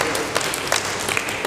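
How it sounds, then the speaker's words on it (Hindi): A seminar audience in a public speaking session gives a short burst of applause, steady hand clapping from a crowd heard fairly close for about a second and a half. "इस बात पे भी हो सकती है थोड़ी बहुत तालियां"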